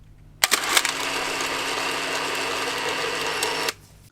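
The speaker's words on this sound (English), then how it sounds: "just click the shutter down, and vroom, off it goes. It's a super noisy camera." A Pentax 645 medium format film camera fires its shutter and auto-winds in one loud mechanical burst of clicks and a steady whirring motor drive that runs for about three seconds, then stops abruptly.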